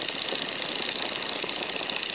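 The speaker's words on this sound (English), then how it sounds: "you can actually bring the power back to about 1700 RPM here" A light aircraft engine throttled back to about 1700 RPM gives a steady, even drone that fills the cabin without a break.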